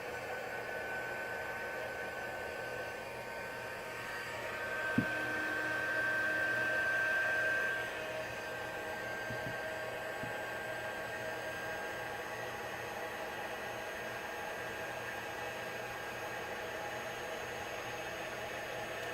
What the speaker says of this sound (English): So I have my heat emboss tool, and it has two settings. We're going to go on the highest setting